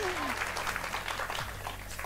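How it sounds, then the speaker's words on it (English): A live cooking show audience gives the garlic a hand, producing a dense, continuous wash of clapping that is loud and close, with voices mixed in underneath. "Hand clap for the garlic"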